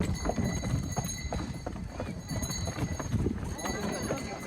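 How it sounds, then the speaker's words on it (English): A horse pulling a sleigh in Poland clip-clops steadily, its hooves beating a brisk, even rhythm close by, with people talking over it. "this is a real live sleigh ride with a horse and an authentic driver"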